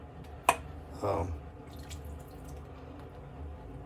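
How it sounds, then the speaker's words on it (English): Water is drizzled into Eucris shaving soap lather: a sharp, close drip comes first, then a brief soft pour and gurgle, with quiet stirring afterward. "We'll drizzle a little bit more water into it"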